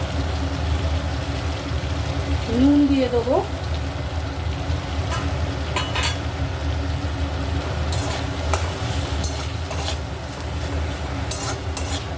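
Spice paste with Kashmiri chili powder frying in a pan while being stirred gives a steady, soft sizzle with scraping and rubbing throughout. A brief tonal squeak rises once near the start.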